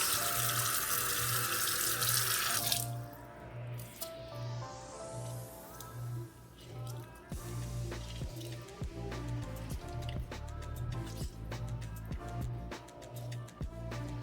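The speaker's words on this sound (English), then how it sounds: "First thing first, wash your chicken." A kitchen faucet runs while raw chicken is rinsed under it, the stream splashing and clattering unevenly, shifting in tone as the flow hits meat and sink, close and loud with no talk.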